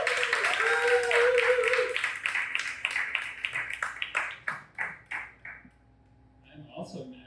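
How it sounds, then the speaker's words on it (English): A comedy club audience claps for a stand-up comedian, starting as dense applause under a voice, then thinning into scattered individual claps that fade to quiet, with a few faint sounds at the end. "Give a big round of applause for Michel"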